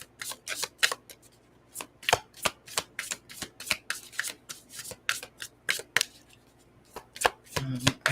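Rapid riffling of an Inner Eye Oracle card deck, repeated crisp bursts of cards flicking together in an uneven rhythm, close and fairly quiet, with no talking.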